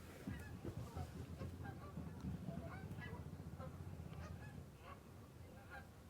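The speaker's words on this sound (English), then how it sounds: "This is early morning, the ducks come out." Geese or ducks honking and calling in early morning near the water, a faint distant scatter of repeated honks over low steady background rumble, with faint voices mixed in.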